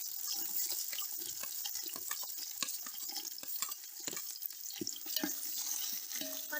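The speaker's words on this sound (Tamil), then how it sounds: "எண்ணெய் சூடாயிடுச்சு. இப்போ பட்டை வகைகள் போட்டுக்கிறேன். இப்போ வெங்காயம் போட்டுக்கிறேன்." Onions and whole spices hitting hot oil for a village-style rabbit curry gravy make a continuous hissing sizzle, dotted with quick crackles and light clicks of stirring, with no talking.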